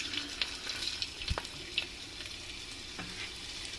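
Chopped ginger hits hot melted butter in a pan for red sauce pasta, giving a soft steady sizzle with a few light stirring clicks and scrapes.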